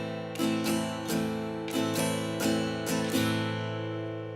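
An acoustic guitar plays a song's pre-chorus strumming pattern slowly, with clear, evenly spaced chord strums ringing close and alone.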